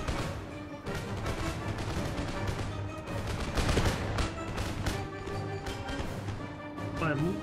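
Musket volleys crackle in Empire: Total War, rippling as many dense, overlapping shots throughout, with a battle din underneath and a voice talking over it.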